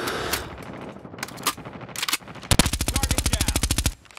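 Machine gun fire in a Call of Duty match, scattered single shots and short bursts, then a loud, close, rapid sustained burst of evenly spaced rounds lasting over a second.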